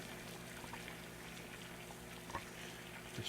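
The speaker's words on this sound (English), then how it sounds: "The water is boiling like crazy." Water churns at a rolling boil during a stove boil test, a faint, continuous bubbling and simmering hiss with occasional small pops, heard alone without talk.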